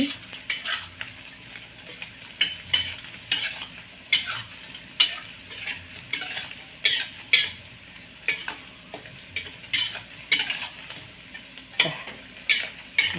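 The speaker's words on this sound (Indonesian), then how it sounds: "Lagian bakso juga kan emang tadi udah matang, tinggal kita goreng dikit-dikit." Precooked meatballs fry in a pan with a steady, close sizzle, punctuated by regular scraping and clacking strokes of a spatula stirring them.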